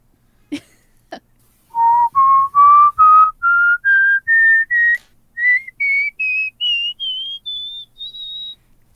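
A clear, close whistle plays a rising run of short, evenly spaced notes that climb steadily in pitch, after two brief taps at the start.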